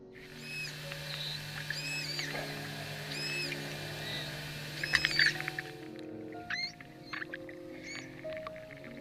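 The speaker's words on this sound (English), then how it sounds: "manatees are very vocal animals and can often be heard chirping and squeaking back and forth to each other" Florida manatees chirp and squeak back and forth underwater, a series of short high squeals and whistles at intervals over a steady low hum and hiss, moderately clear with no talk.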